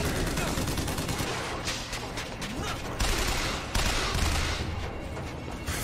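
Rapid, dense gunfire in the video game BioShock Infinite, bursts of automatic shots crackling continuously at close range with heavy booms, loud throughout and mixed with game noise.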